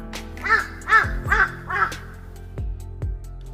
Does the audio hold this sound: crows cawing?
yes